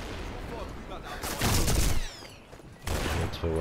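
Sniper Elite 4 gunfire rattles in repeated bursts, loud shots and heavy impacts crowding together with other battle noise in the game, no voices.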